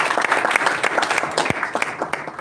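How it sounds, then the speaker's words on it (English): Audience at a Toastmasters club meeting applauding, a loud, close burst of individual claps with distinct sharp hits scattered through the crowd, carrying on briskly without pause. "Can we have a huge round of applause for Toastmaster Ruchira"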